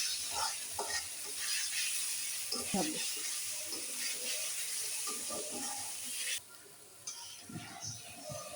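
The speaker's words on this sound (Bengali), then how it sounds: "এই যে অল্প একটু পানি দিলাম" Water added to an egg korma masala in a frying pan sizzles and hisses steadily with stirring scrapes, a brief pour sound mixed in, close and fairly quiet.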